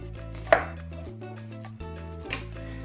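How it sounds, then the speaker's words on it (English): A knife chops an onion on a board for sofrito, a few sharp, close cuts standing out over a steady low background hum. "We're going to cut the onion."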